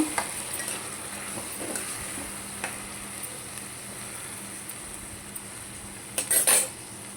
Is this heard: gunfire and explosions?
no